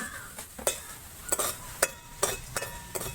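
Cardamom pods roasting in a dry pan, heard as a quiet run of scattered clicks and scrapes as the pods are stirred, with brief sharper taps at irregular intervals.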